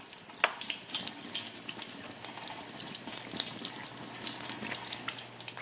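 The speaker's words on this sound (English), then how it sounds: "I'm going to just do a little rinse on my salmon." Tap water runs steadily over a salmon fillet in a kitchen sink, a continuous close splashing hiss with small spatters and drips, no voices.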